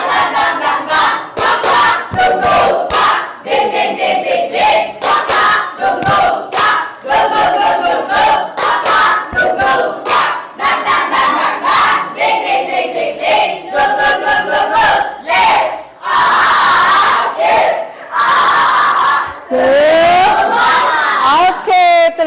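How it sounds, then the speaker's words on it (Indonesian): A class of students in a school mathematics lesson performs a 'tepuk semangat' spirit chant, shouting loud rhythmic lines in unison with bursts of clapping and a leader's voice cueing them. "kita tepuk semangat dulu"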